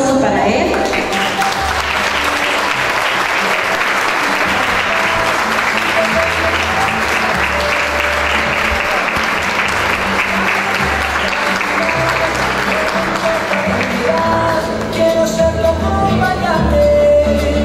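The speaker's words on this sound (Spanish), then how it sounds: "Aplausos para él." A school graduation ceremony crowd at Escuela 82 in Justo Daract gives a long round of loud applause for a graduate, steady dense clapping with some background voices and music, fading near the end as sound shifts.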